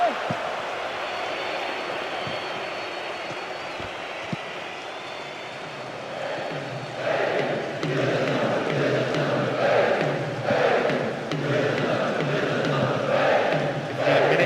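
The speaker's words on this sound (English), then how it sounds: "To say the crowd is adding to this as a spectacle. The noise they're making is terrific." Stadium crowd in a PES 2009 football match, a steady roar that swells louder partway through and keeps surging, with commentary talking over it.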